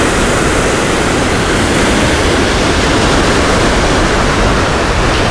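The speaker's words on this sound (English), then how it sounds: "a little further down, it turns into a waterfall." A waterfall on a creek in Glacier National Park, Montana, pours with a dense, constant, loud hiss and roar, heard close and steady without a break.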